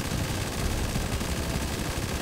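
Gunfire in GTA 5 during a federal police operation, a steady dense crackle of rapid shots that fills the whole stretch at moderate loudness without pause.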